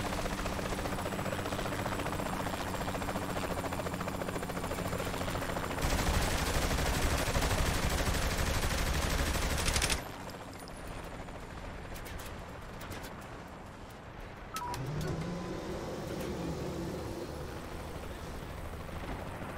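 Helicopter in Saints Row 3 during a gunfight mission, a loud steady rotor drone with engine rumble that jumps louder midway, then drops and rises again, with bursts of gunfire-like cracks mixed in.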